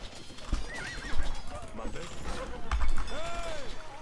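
Horses in the Age of Empires II video game neigh and whinny repeatedly over clip-clopping hooves and light battle noise, while someone talks over the game sounds.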